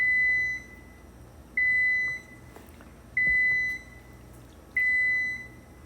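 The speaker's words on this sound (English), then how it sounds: "that's just telling me that the vegetables are ready. That's what that beeping was" A kitchen timer set for boiling vegetables beeps four times, each a long, loud, steady tone spaced about 1.5 seconds apart in a quiet kitchen.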